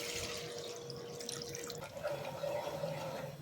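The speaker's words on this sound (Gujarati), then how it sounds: "1 ગ્લાસ જેટલું પાણી ઉમેરીશું।" Water poured into a cooking pan while making a moong dal vadi curry gives a continuous, soft, steady trickling stream that runs without a break.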